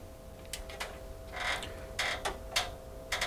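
Locking screws on a Hitachi ultimate short throw projector mount being tightened, giving several short creaking, ratcheting clicks in uneven bursts, close and moderately loud over a quiet background hum.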